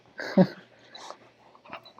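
Puppies make short, close yelps and whimpery huffs, one sharper cry standing out among quieter snuffling sounds.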